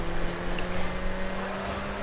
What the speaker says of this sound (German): hört sich wirklich an wie so ein Formel 1 Auto